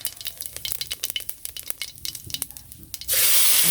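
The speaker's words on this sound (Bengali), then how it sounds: "তেলের মধ্যে দিয়ে দিলাম জিরে রাঁধুনি সম্বার" Cumin and radhuni seeds crackle and pop in hot oil, with a brisk irregular patter that turns into a loud, steady sizzle near the end.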